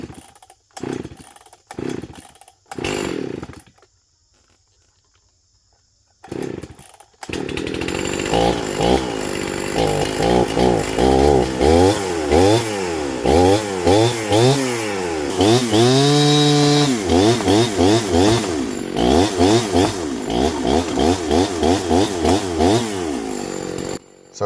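A chainsaw cuts into a downed tree for firewood, opening with a few short bursts and a pause, then running loud and continuous with rising and falling revs as the bar bites through the wood.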